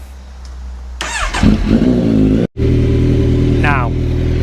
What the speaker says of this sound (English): we are going to cap the radiator back off and run the engine.